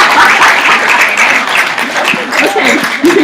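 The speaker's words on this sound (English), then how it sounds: "Let's give her a hand of applause" Loud, dense audience applause fills the whole stretch, with cheers and voices mixed into the clapping crowd.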